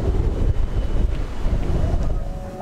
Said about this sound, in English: It's kind of a windy day out here